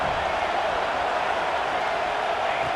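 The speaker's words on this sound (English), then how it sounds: "Listen to the crowd energy here in the early going." Crowd roar from a college football video game, a dense continuous wash of cheering stadium noise at even volume with no clear peaks.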